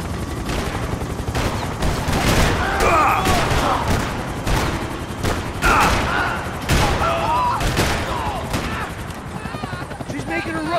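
Gunfire in the video game Max Payne 3, with repeated bursts of loud shots in a rapid fusillade over a helicopter-like drone, and voices shouting amid the action.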